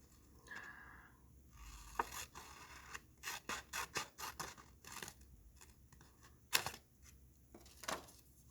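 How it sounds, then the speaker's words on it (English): Scissors snip through a sheet of paper to cut off a corner, a series of quick crisp cuts and rustles with short pauses, close and fairly quiet. "It was like a rectangular piece, and I cut the corner off"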